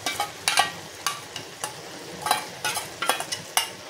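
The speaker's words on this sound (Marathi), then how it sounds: "ह्यामध्ये मी आता हे मसाले ॲड केलेले आहे, ते मसाले टाकून घेते" Spices being stirred into a yogurt masala mixture in a pan for mushroom masala gravy, a run of separate spoon scrapes and clinks over a faint low sizzle, with no talk.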